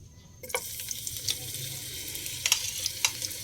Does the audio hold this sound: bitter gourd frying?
yes